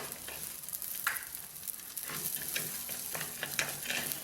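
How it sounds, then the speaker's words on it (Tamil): Foxtail millet dry-roasting in a pan, a soft, fairly quiet scraping and crackle as a spoon stirs the grains in uneven strokes. "இதில் நம்ம வந்து ரவையை ரோஸ்ட் பண்ண போகிறோம்."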